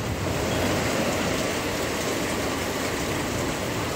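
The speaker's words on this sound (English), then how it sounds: "It's raining super hard." Heavy rain pounds down during a violent storm with strong wind, a dense, loud, unbroken hiss of broadband noise filling the whole stretch with no voices.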